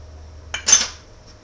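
A single brief clink and scrape of a utensil against a pan, close and sharp, while ground beef with Hungarian paprika is mixed, then quiet.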